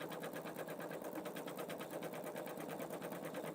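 A Pfaff Creative Vision embroidery machine stitches out a design, its needle hammering in a fast, even mechanical rhythm that runs steadily and quietly without a break.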